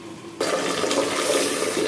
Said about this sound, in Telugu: బియ్యం కూడా కడగడం చూసారా